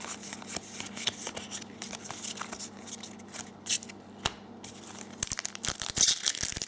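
Pokémon booster packs being torn open by hand, with foil wrappers ripping and crinkling in close, irregular bursts, occasional sharp snaps and rustles, and quiet room tone between.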